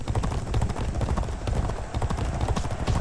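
Horse hooves gallop in G1 Jockey 4, a fast continuous clip-clop rhythm under steady crowd and race ambience, close and fairly loud.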